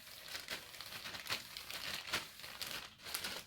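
A plastic bag is rubbed over short hair in brushing strokes to lay down 360 waves, giving close, repeated soft crinkling swishes in a steady rhythm.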